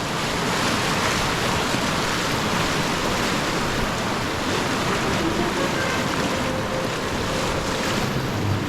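White-water rapids on the Stillwater River in summer, a steady roaring rush of churning water with heavy wind buffeting the microphone, continuous and close throughout.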